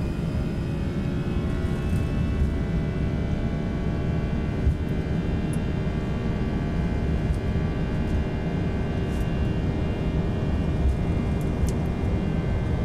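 Airliner engines run at takeoff power in X-Plane 11 flight simulator, a steady loud roar with constant hum and faint whine, unbroken throughout with no voices.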